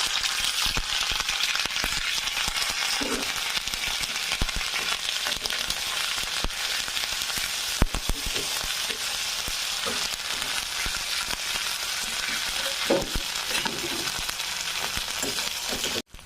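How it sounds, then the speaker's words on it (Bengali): Ginger paste fries in hot oil with a loud, constant sizzle and crackle that lasts throughout. Scattered pops and a few light utensil taps break through, and it ends abruptly without any talk. "তেল গরম হয়ে গেছে, তাতে দিয়ে দেব আদা বাটা"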